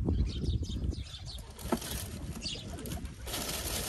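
Pigeons coo close by in short repeated murmurs, with brief wing flutters and background noise around them.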